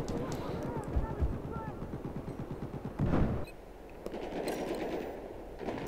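A high rate-of-fire gun with a small magazine chatters in quick, regular bursts in the Battlefield 4 Final Stand DLC on PS4, followed by a heavier blast and quieter combat noise, with talk over it.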